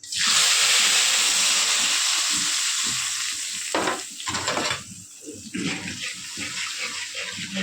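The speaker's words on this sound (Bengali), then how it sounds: "এখন আমি মাছটা কষায় নেব, মশলা কষায়" Ground spice paste of ginger, garlic, onion, turmeric and yogurt sizzles and fries loudly in a pan for hilsa curry, a steady hiss with intermittent stirring scrapes, easing somewhat toward the end.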